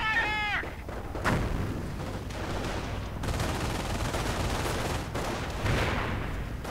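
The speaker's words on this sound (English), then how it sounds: "Mortar keeps raking in." Mortar shells thud and boom repeatedly in a real-time strategy battle, with a few deep blasts scattered among crackling gunfire and explosions, while a commentator speaks over the action.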